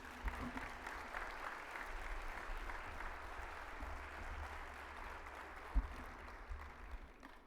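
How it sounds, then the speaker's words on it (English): An audience at an agricultural association general session applauds steadily and loudly for several seconds, a dense even wash of clapping with a few sharper claps standing out. "Let's give them a big round of applause"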